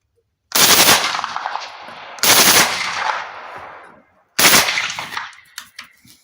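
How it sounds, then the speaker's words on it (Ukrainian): Three loud AK rifle gunshots, spaced a couple of seconds apart, each with a sharp crack and a long echoing tail. "Постріл."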